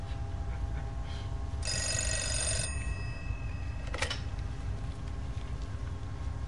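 A telephone bell rings once in a sustained burst, then gives a brief second ring, set against a quiet indoor hum with no talk.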